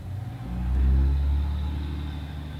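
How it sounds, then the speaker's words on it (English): A diesel truck pulling a trailer rolls past with a deep, swelling engine rumble that peaks in the middle and then fades slightly as it moves on. "Diesel truck and trailer."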